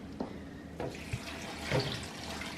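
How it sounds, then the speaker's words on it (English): Tap water runs into a soup pot being filled for chicken soup, giving a close, continuous splashing with a few heavier gurgling bursts and no speech. "we're going to fill up the pot"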